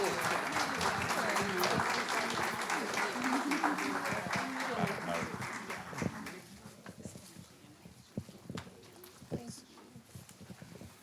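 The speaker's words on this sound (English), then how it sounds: "let's give our board a round of applause." Loud applause from a school board meeting crowd, dense clapping that fades after several seconds into scattered claps, with some voices underneath.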